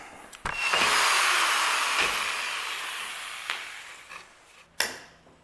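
Hole saw drilling through oak trim used as a guide, a loud whirring grind that starts abruptly, holds steady, and tapers off, ending with a sharp bump or clack.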